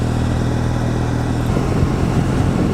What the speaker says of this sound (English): you could hear the overrun on the exhaust system